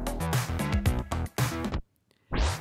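A busy musical passage plays, then a tape slow-down stopper effect with a short ramp abruptly slows it and drops its pitch to a stop, followed by a brief silence before the music swells back in.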